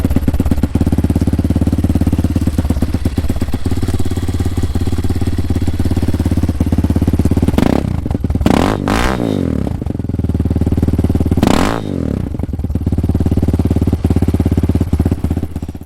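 A cold Hawk 250 DLX motorcycle with a new exhaust, after sitting unused, idles steadily and close by, with a lumpy low rumble and a couple of brief blips or clattering bursts midway through.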